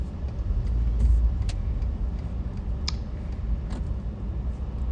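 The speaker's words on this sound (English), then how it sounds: "sorry, watching traffic." A car passes on a road near flooded Rockport, a steady low rumble of tires and engine that swells slightly and then holds, with a few faint clicks over the top and no talking.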